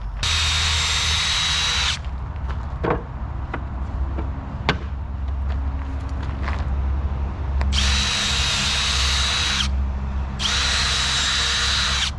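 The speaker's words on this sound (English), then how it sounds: "pre-drill 2 holes on both sides and attach them from the bottom" A power drill bores pilot holes into wood for a DIY planter box, running in steady loud bursts of about two seconds at the start and two more near the end, with quieter handling knocks in the gap.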